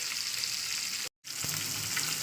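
Fish coated with salt and turmeric fries in a pan with a loud, steady sizzle that drops out for a split second midway, then resumes.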